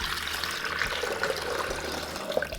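Three cups of cold water stream steadily into a blender for homemade oat milk, a continuous splashing pour, close and moderately loud, without a break and with no speech over it.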